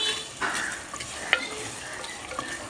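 Vegetable biryani cooking in a clay pot, with a continuous close sizzle and scraping stirring strokes with occasional light clinks, no talk.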